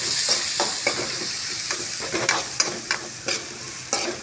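Onions fry in hot oil with cinnamon and fennel for a drumstick chicken gravy, giving a steady sizzling hiss broken by repeated scraping stirs of a spoon, up close with no speech.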